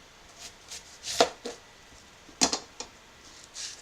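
A knife chops an onion on a cutting board in a few distinct, fairly quiet strokes, isolated thuds spaced irregularly with short pauses between, close by and without talk.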